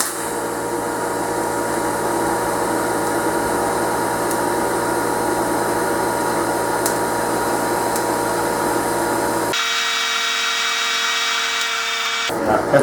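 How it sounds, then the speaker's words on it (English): Steady welding buzz with a constant electrical hum while running a bead with 3/32 filler wire during a tractor rebuild, continuous and close, then a sudden change in tone near the end. "That's welding up really nice."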